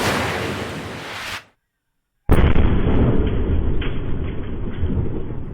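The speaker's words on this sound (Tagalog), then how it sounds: "Ramdam sa sentro ng Zamboanga City ang pagsabog ng mga paputok sa isang firing range sa Barangay Kabatangan." Confiscated fireworks explode during disposal at a firing range in Barangay Kabatangan, Zamboanga City, heard as loud, sustained blasts and crackling roar that cut out abruptly and then resume with dense, continuous bursts.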